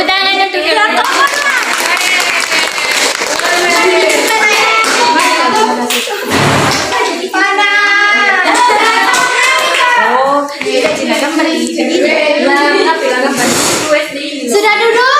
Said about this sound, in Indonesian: tepuk tangan untuk Ya, tolong